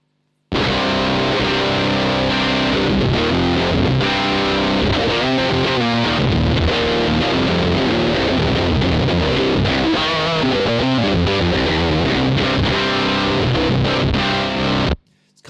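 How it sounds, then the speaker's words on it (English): Gamechanger Audio Plasma Pedal distortion with its gain voltage turned up, giving a loud, thick, buzzy distorted guitar tone with bubbly artifacts, played continuously for about fourteen seconds and cutting off abruptly. "It's very, very bubbly. There's a lot of audio artifacts that are being added to the sound. So let's increase that gain voltage up."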